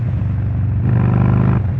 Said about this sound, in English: Man, that exhaust sounds ridiculous.